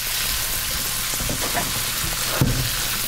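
Meat browning in a pan for chili gives a steady broadband sizzle and frying hiss, with faint stirring scrapes and a brief louder knock near the end.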